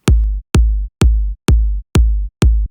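Six identical booming kick drum hits, evenly spaced about half a second apart, each a punchy click with a deep decaying low thump, dry and unprocessed, sampled from a Dirty South track.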